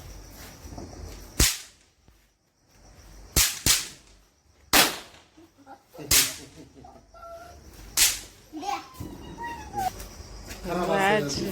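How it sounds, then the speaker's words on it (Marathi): Several sharp bidi bomb firecracker bangs burst one after another at irregular intervals, each crack loud and close, with children's voices and squeals between and after them. "बिडी बम फटाके फोडायला"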